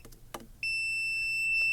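A handheld electrical tester held up to a live wire emits a steady, sustained electronic beep that starts abruptly and holds at a constant pitch, following a few faint clicks and handling noises.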